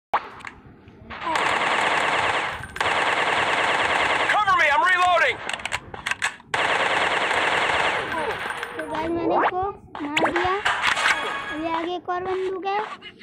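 Rapid automatic gunfire and single shots ring out in an army shooter video game, dense bursts with brief gaps, over game sound effects, while someone talks in Hindi throughout.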